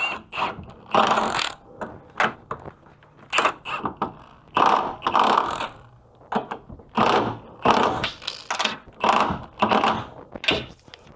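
Ratchet wrench running nuts down onto a strut on a 2005 Toyota Camry, heard as repeated bursts of rapid mechanical clicking in short runs with brief pauses between, close and fairly loud.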